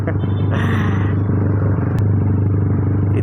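A Benelli 302S motorcycle engine idles close by with a deep, steady rumble and a brief rise in revs early on, with no voices over it.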